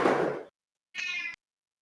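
A house cat gives two short meows a half-second apart, the first lower and rougher, the second higher and brighter, close to the microphone with silence between.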